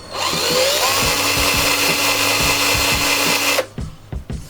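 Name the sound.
power drill making a starter hole for screws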